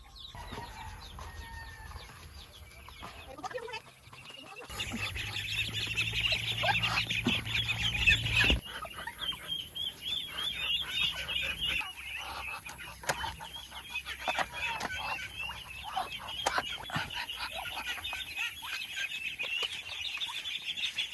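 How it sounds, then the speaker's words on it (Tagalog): Domestic ducks and chickens on a provincial farm, probably at feeding time, with loud, continuous overlapping calls, clucks and wing flaps that surge near the mic after a quieter opening. "Naman tayo sa ating mga bibi."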